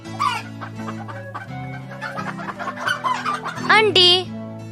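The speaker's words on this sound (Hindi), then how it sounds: "मुर्गी," A hen clucks in a close, rhythmic series of short calls over a steady musical backing, ending in a higher squawk, with a voice speaking alongside.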